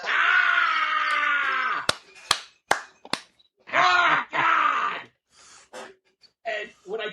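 A voice imitates Ric Flair's wrestling scream in one loud, sustained, strained howl. Sharp cracks and several shorter, choppy vocal bursts follow.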